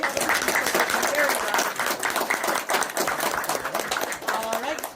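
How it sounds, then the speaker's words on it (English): An audience applauds at the close of a live developer Q&A panel for Marvel Contest of Champions at Summonerfest, with dense clapping that holds steady for several seconds before easing off. "Let's give these guys a round of applause."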